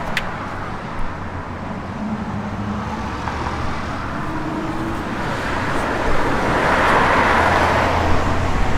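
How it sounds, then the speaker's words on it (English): A 1969 Chevrolet Camaro's small-block V8 idles steadily and close by, a broad continuous rumble that swells slightly louder toward the end, with no talking. "Good running small block,"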